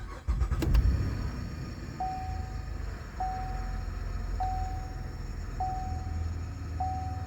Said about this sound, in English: Now we're gonna start it up and check with the ohm reader, the ohmmeter, to see how much the alternator is distributing.